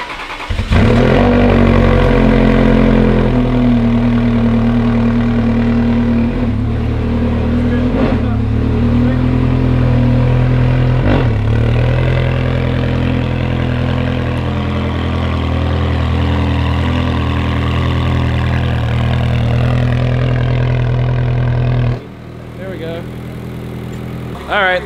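A Ferrari 360 engine idles steadily while warming up, a loud, close, continuous low drone with a few small rev swells before it cuts off near the end, leaving quieter background sound.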